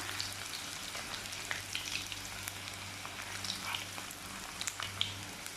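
Onion rings deep-frying in hot oil give a steady, soft bubbling sizzle with scattered small crackles and pops, fairly quiet and close, with no voices over it.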